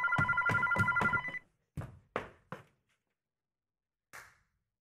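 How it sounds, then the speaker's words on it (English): A telephone bell rings indoors, a rapid rattling trill lasting over a second, followed by several short, fading knocks and one last brief ring after a pause, all fairly quiet and without voices. "Oh, the phone's ringing."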